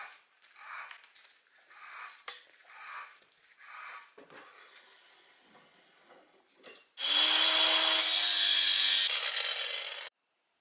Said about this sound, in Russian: Ну что, сейчас резьбу перережем.